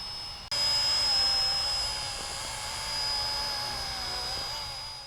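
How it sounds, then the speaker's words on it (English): A small beginner RC helicopter's high-pitched rotor and motor whine hums steadily nearby, starting abruptly and holding at a constant level with slight wavering. "but just a really cool helicopter"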